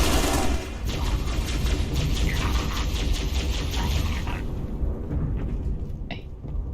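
Plasma pistol fire in Halo: Reach, quick successive energy shots popping in a steady run over rumbling game ambience and explosions, loud and close.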